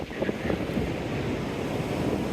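Ocean waves on a warm tropical beach near Manuel Antonio, Costa Rica, a loud, steady wash of surf mixed with wind buffeting the microphone, with no clear separate breaks.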